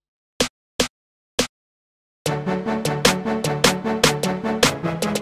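Dry "Clap 19" drum clap layered with a second snare in a hip-hop beat: three crisp isolated hits, then the full beat enters with the clap cracking on a steady rhythm over dense music.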